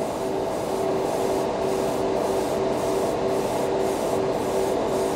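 Badger Xtreme Patriot airbrush spraying paint onto metal deli spoons, a loud continuous airy hiss with a faint regular pulsing from the compressor, close and unbroken, no talk.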